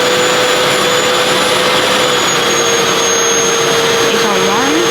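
A RevAir reverse hair dryer runs with a loud, steady vacuum-like whine and rushing airflow, holding an even drone with a slight pitch shift near the end.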